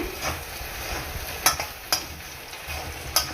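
Pepper potato fry stirred in a pan, a soft continuous sizzle with a few sharp scraping strokes of the spoon against the pan, close and steady.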